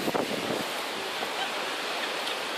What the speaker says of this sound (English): We are at the beach.